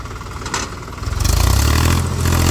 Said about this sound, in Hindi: फुल स्पीड के अंदर पीछे जाता हुआ ट्रैक्टर भाई